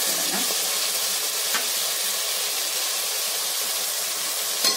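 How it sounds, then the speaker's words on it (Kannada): Peas and fresh mint frying in a mix of oil and ghee in a pan for restaurant-style tomato bath, giving a steady, close sizzle and hiss with a few faint stirring clicks and no talking. "ಚೆನ್ನಾಗಿ ಫ್ರೈ ಆಗಲಿ ಎಣ್ಣೆ ತುಪ್ಪದಲ್ಲಿ"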